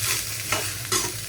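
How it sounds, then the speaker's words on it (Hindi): Brown rice sautés in oil in a pan, an up-close sizzle with two quick scraping stirs during a brief moment. "इसमें मैं डालूँगी थोड़े राइस, बस इसको सॉटे कर लूँगी हल्का सा।"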